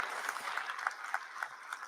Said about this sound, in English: A big round of applause for this wonderful launch